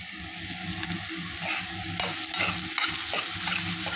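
Vegetables for a bharta roast in a pan, sizzling continuously while a spatula stirs and scrapes in an irregular rhythm, moderately loud and close.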